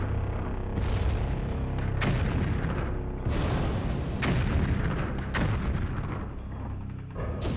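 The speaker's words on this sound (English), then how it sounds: "But even more deadly than the well-aimed 75s are the fearsome German 88-millimeter guns." German 88-millimeter guns firing in a rapid series of heavy, booming blasts, each followed by a rumbling tail, loud and continuous throughout without any voices.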